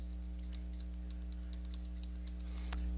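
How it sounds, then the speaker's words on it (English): A password being typed on a computer keyboard: a steady run of light, close key clicks over a constant low electrical hum, with one slightly harder tap near the end and no talking. "And then you type in your password."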